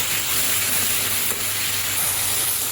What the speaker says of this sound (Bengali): তো এখন চিংড়ি মাছগুলো দিয়ে কষিয়ে নেব।